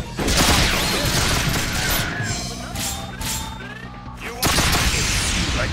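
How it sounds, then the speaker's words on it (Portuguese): Bursts of loud gunfire open and close the stretch, with a quieter lull of mechanical whirring and tonal effects in between, like a busy game soundtrack. "Um tiro."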